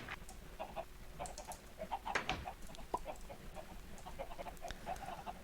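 Chickens cluck in a Minecraft chicken grinder, with short, scattered clucks and squawks over a steady low mechanical hum, fairly close and moderately loud throughout.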